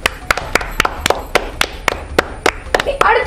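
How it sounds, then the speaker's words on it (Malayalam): Children at an Independence Day quiz clap for a correct answer, a loose series of sharp, close hand claps at an uneven rhythm, some overlapping, with faint voices underneath and a brief burst of talk near the end. "എല്ലാവരും ദിൻഹക്ക് ഒരു ക്ലാപ്പ് കൊടുക്കൂ"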